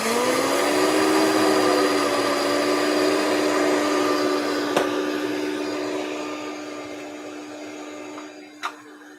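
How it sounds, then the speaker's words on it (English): A kitchen blender grinds seeds with a loud, steady motor whine that holds evenly for most of the stretch, then eases slightly, with a couple of brief clicks near the end. "Okay, I'm going to blend up these seeds."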